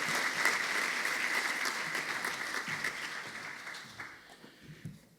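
An audience at a college football awards luncheon applauds honorees with dense, steady clapping that gradually thins and fades toward the end.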